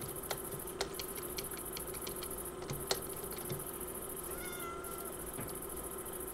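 A cat meows in modded Minecraft Java Edition 1.16.5, giving a few short meows over steady game ambience and faint ticking clicks, with no talking.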